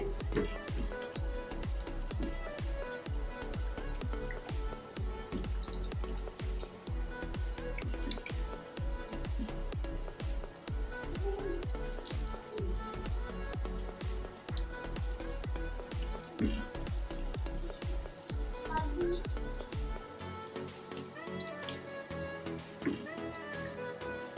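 Mini Mughlai fry in oil over low heat, a steady close sizzle with soft bubbling and wet pops that continues evenly throughout, becoming slightly thinner near the end.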